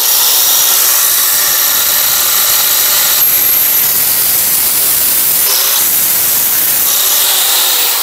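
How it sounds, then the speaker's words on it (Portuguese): An angle grinder cuts into a metal spoon with a loud, continuous, harsh high-pitched grinding roar that barely changes over several seconds and has no voices. "Eu posso começar reto e aí angulando com a esmerilhadeira para mim conseguir fazer uma entradinha aqui até vazar do outro lado da colher"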